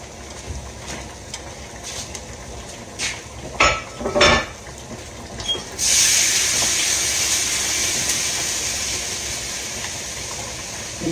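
A few light clinks of cookware, then bacon grease poured into a container, a steady close hiss of liquid that carries on for several seconds and slowly fades.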